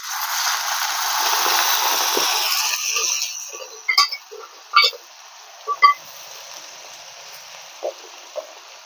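Boiled mutton and its cooking water go into a hot pan with a loud, close hiss and sizzle that fades after a few seconds. A handful of sharp clinks and taps follow.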